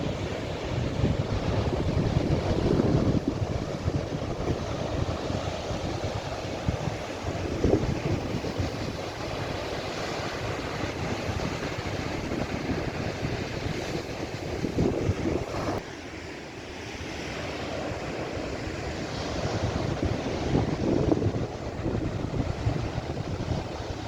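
Sea waves rolling onto the beach at Lalla Fatna, a continuous loud wash of surf with wind buffeting the microphone, steady and close throughout with no voices.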